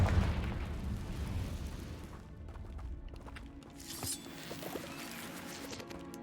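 Blasting spell explosion in the Hogwarts Legacy video game, a heavy booming burst that rolls into rumbling debris and crackle, then a second smaller blast with ringing, magical shimmer, no talk.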